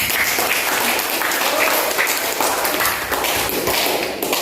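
A classroom audience applauds a student in an Indonesian news lesson, with sustained dense clapping that stays steady and fairly loud throughout.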